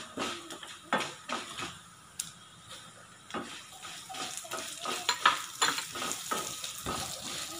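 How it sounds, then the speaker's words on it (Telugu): Chana dal, urad dal and sesame seeds fry in a pan for a spicy ivy gourd and onion powder, with a soft, close sizzle broken by repeated scraping, clinking stirs of a spoon. "లాస్ట్లో తొందరగా నువ్వులు వేగిపోతాయి కాబట్టి ఇవన్నీ వేగిపోయిన తర్వాత లాస్ట్లో కొన్ని నువ్వులు వేసుకోవాలి."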